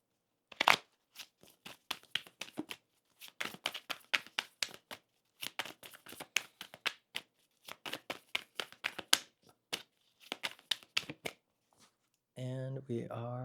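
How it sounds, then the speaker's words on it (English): Crisp, rapid papery riffling of a tarot deck being shuffled in repeated bursts with short pauses between, close and clear, followed by a brief voice at the end. "So let me just shuffle."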